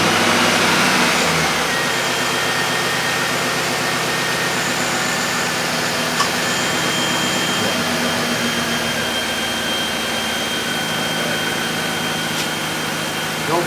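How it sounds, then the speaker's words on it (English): A car engine fires up for the first time after a K&N 77 Series cold air intake is installed, settling into a loud, steady idle with an intake whine that continues unbroken. "here's the first start of our motor since installing a new K&N filter."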